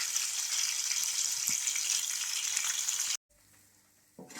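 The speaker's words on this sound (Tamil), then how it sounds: "இதை நல்லா பொன்னிறமாக வதக்கிக்கணும்." Onions, green chilies, cinnamon, cloves and cardamom fry in hot oil for biryani, giving a steady close sizzle that cuts off abruptly, followed by a quieter pause and a brief clatter.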